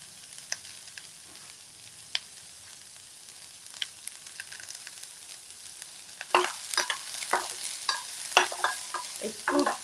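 Onions frying lightly in a little oil over low heat sizzle softly with a few scattered crackles, then stirring with a utensil adds louder scraping and clatter close by.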